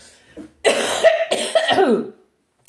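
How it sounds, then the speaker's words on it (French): Several harsh, throaty coughs in a quick burst, close and loud, followed by silence. "C'est une excuse pour tousser."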